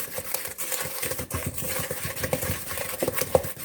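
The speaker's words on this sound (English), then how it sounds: "So we just want to stir this around real good." Spoon stirring a mixture for bacon cheeseburger bites in a bowl, a steady run of soft scraping and light clinks with small taps, close and fairly quiet.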